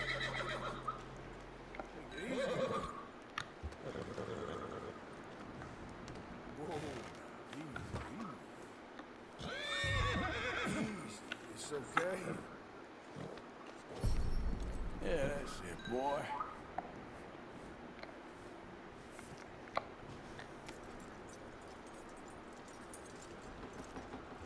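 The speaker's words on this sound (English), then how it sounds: "Hold L2 to focus on the horse." A horse in Red Dead Redemption 2 whinnies and neighs a few times, with hoofbeats clopping in bursts between. A player talks over the game sounds throughout.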